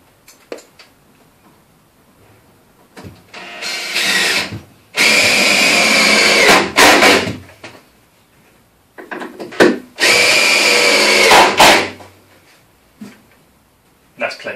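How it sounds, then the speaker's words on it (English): A power drill drives 4-inch screws into a workbench made from 4x2 timber and scrap wood, with two long loud whirring bursts that bog as the screws bite, and shorter clatters between them. "I'm just going to use a couple of 4-inch screws now on either side"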